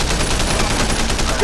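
Rapid gunfire from a shootout in Sleeping Dogs Definitive Edition rattles in a dense, loud burst of repeated shots with voices faintly mixed underneath.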